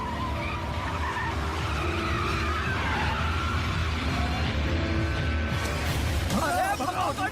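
Tires screech in a long, continuous skid under a roaring car engine, loud and close, with voices talking over it.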